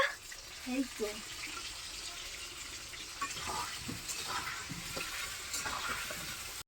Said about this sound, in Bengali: বৌদি দেখো এখানে রান্না হচ্ছে